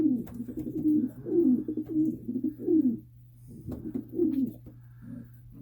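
Breeding pigeons coo in a loft, several low rolling coos in a row with a short pause midway, close and clear over a steady low hum.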